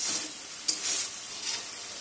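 Chicken stirred into a sizzling yogurt and spice mixture in a pan: a loud, continuous close-up hiss with a couple of short scraping stirs.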